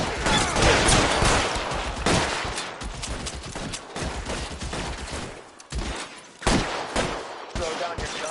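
A heavy gunfight in L.A. Noire: sustained rapid volleys of close, loud shots with brief pauses and sharp single cracks near the end.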